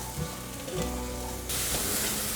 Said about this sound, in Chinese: 接着放入蘑菇，把蘑菇炒软。